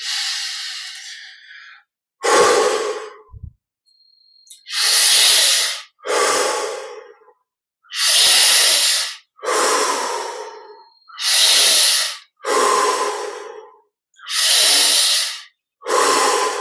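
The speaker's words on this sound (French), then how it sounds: "Pour les 10 dernières, un peu plus d'amplitude dans la respire." Deep, forceful breaths taken as part of the Yogoda energization technique: slow, close, rushing inhale-and-exhale cycles repeated in an even rhythm with short silent pauses between them, with no talking.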